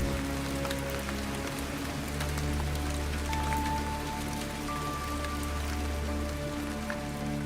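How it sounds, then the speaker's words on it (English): Rain falls steadily at an outdoor archaeological excavation at Dinmore Hill in Herefordshire, a constant dense patter on surfaces with occasional louder drips, close and without voices. "the rain's going to get even worse."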